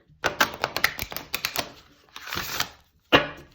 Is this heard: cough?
no